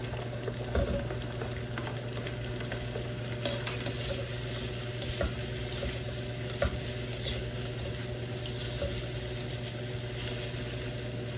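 Carrots and water chestnuts sizzle steadily in a hot pan, a continuous close frying hiss with faint scraping clicks of stirring, no talking.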